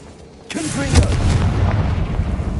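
Confringo explosion spell from Hogwarts Legacy: a booming blast hits about half a second in, followed by a sustained rumbling roar and crackle under game ambience.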